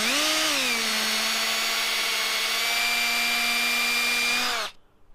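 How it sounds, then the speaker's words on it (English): A power drill whines steadily at high speed for several seconds, loud and close, then stops abruptly, leaving quiet room sound. "we're gonna drill a hole so we can get our bolt to come up through the bottom"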